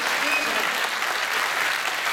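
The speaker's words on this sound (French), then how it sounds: "Vous pouvez l'applaudir quand même très fort" Audience applause for Caroline at a radio singing contest and prize ceremony in Bain-de-Bretagne: steady, dense clapping from a sizeable crowd, loud and continuous with no break, and talk may be mixed faintly beneath it.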